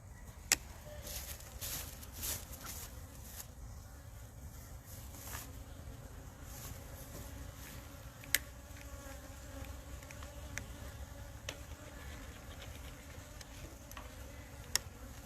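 Honey bees buzz around an opened hive in a constant, fairly quiet drone, with a few sharp ticks and knocks from handling the frames and no talk.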